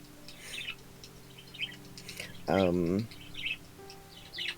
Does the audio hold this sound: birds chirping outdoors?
yes